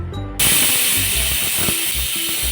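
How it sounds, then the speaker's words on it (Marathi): A pressure cooker holding one-pot pav bhaji lets out a sudden loud whistle and a sustained hiss of escaping steam that continues steadily. "आता कुकरचं झाकण लावायचं आणि 4 ते 5 शिट्ट्या करायच्या."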